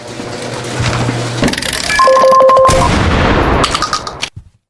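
Gunfire in a horror survival video game: a rapid burst of loud, close shots with sharp electronic tones in the middle, then a quick fade into silence.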